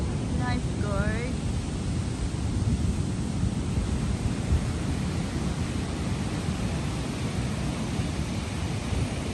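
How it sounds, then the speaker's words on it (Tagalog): Strong ocean waves and surf roar steadily at a surfing beach in Japan. The loud, continuous wash carries wind buffeting through the whole stretch, with a few faint chirps early on. "Lakas ng alon."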